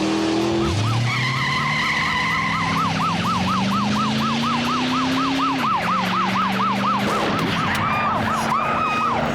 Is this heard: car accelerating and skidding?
yes